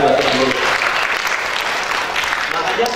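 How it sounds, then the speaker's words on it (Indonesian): A church congregation claps together, the dense applause loud and continuous through the whole stretch, with some voices blended in beneath it. "Tepuk tangan buat Tuhan."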